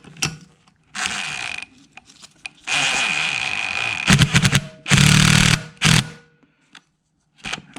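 Power tool zipping down a bolt during final assembly of an LS 5.3L engine, heard as several loud bursts of whirring and ratcheting spaced by short pauses, with a few faint clicks at the end.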